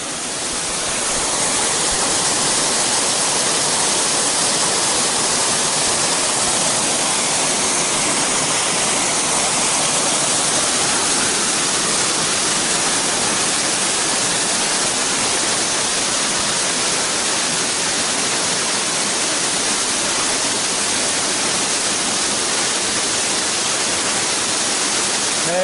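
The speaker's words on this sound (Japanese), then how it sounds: "昇竜の滝。" Shoryu waterfall at Umeki Todoroki Park in Gokanosho, Kumamoto, rushing as a steady, loud, unbroken roar of falling water with no pauses.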